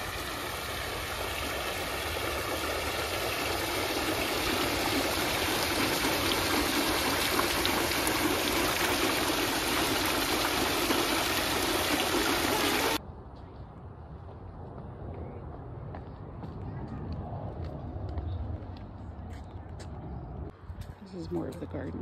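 A waterfall in a botanic garden in Houston roars as a steady, broad rush of water, loud and close, then cuts off to much quieter outdoor ambience.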